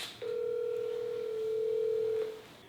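A cell phone call's ringback tone, a single steady electronic tone lasting about two seconds, clear and close with no voices.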